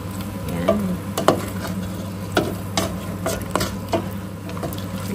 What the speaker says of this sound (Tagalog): Gisa-gisa lang tayo.